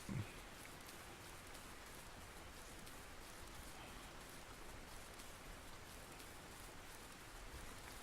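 Steady rain falls in the fishing video game Russian Fishing 4, a soft, even hiss of raindrops with no voices, constant and moderately faint throughout.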